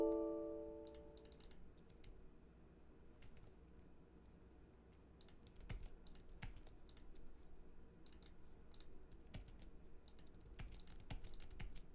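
Keys tapped on a computer keyboard while entering a height value in 3D modeling software, a quiet scatter of soft clicks in short bursts with a faint background hum and no voices.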